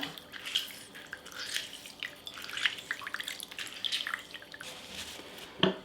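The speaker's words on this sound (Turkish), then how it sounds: "Onun için bir limonu bu kaseye sıkıyorum şimdi." A lemon is squeezed by hand into a bowl, and its juice falls in a close, continuous patter of small wet drips and splashes, with a sharper drop near the end.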